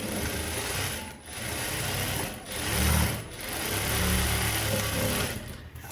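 A sewing machine stitching a blouse runs in steady whirring bursts, pausing briefly between runs, close and loud with no voices.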